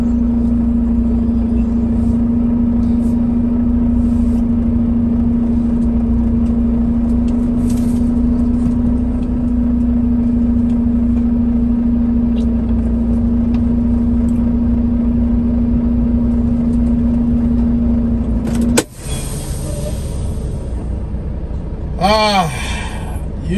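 A west Texas oilfield truck hauling frac sand idles with a steady, loud engine drone, a sharp knock breaking in near the end before the rumble carries on.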